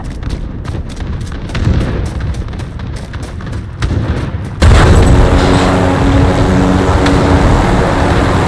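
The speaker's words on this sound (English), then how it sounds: "Enemy cruise missile incoming. Take cover." A cruise missile strike in Modern Warfare Ground War lands as a heavy, loud boom that gives way to a sustained roaring rumble, after several seconds of crackling battlefield noise and distant blasts.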